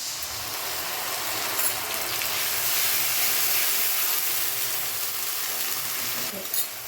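Ground spice paste sizzling loudly in a pan with onions fried to a deep red-brown, a dense continuous hiss with occasional stirring clatter, close and steady throughout.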